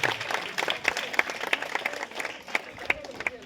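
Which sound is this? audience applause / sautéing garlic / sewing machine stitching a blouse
audience applause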